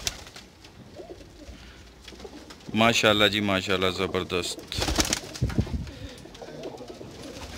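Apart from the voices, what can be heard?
Kamagar pigeons cooing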